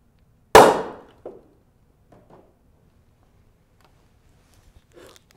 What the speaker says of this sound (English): that cork shot out of the inner test tube at high speed